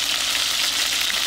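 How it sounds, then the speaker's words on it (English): Beef stew meat browns in a small frying pan, giving a steady, dense sizzle that stays even and close throughout, with no voices over it. "Then we'll brown up this meat real fast."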